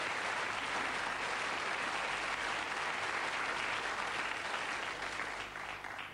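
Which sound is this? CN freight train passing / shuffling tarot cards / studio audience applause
studio audience applause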